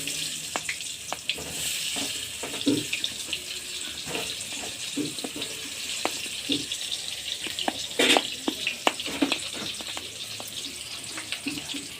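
Salted potato pieces fry in hot oil for a Bengali country-style meat curry, giving a steady close hiss scattered with sharp pops and crackles throughout, with no talking.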